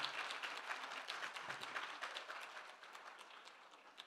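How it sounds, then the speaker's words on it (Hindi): Audience applause at a book festival talk, a dense, fairly even stretch of many people clapping, heard from a distance and slowly thinning out. "प्लीज तालियां बजाइए।"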